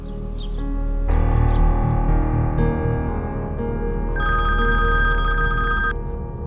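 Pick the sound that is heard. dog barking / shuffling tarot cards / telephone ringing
telephone ringing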